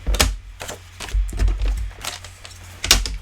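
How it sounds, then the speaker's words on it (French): Paper card being cut for a handmade Mother's Day card, a series of close, sharp snipping and crunching cuts spaced irregularly, with quiet gaps between them. "Et je viens découper."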